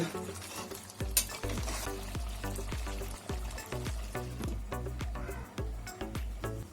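Chicken and potatoes frying in oil and spices, with a rhythmic series of close scraping stirs over a steady sizzle.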